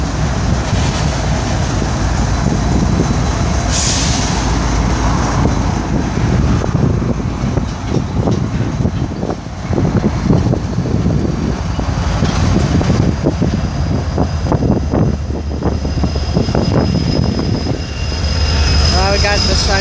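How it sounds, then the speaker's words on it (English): Heavy locomotive engine rumble and roar fills the whole stretch at night in the Rochester rail yard, loud and steady, with clanking and rattling bursts as the engines pass close by. "Here comes the engines."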